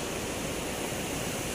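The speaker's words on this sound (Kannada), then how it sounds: "ನೋಡಿ ತುಂಬಾ ಹರಿತಾ ಉಂಟು ನೀರು" Swollen monsoon river rushing fast past the bank, a steady, dense roar of flowing water filling the whole moment without a break and with no voices.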